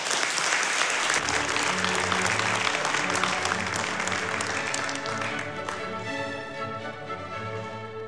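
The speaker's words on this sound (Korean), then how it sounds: "큰 박수와 함께 시작하시죠." Loud, steady applause from a seated audience fills a foundation launch ceremony, swelling after the first second and continuing throughout, with music-like tones underneath and no talking.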